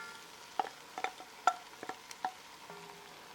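Stewed tomatoes simmer in a pot for crawfish étouffée, with a faint background sizzle and several soft, separate stirring scrapes and taps from a utensil.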